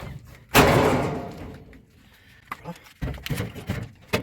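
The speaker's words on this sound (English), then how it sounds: "This is the maintenance door for the heater. So I'm going to pop this off." An old furnace heater's metal maintenance door is popped off: a loud thud near the start, then scattered rattles and knocks as the panel is handled, close and alone.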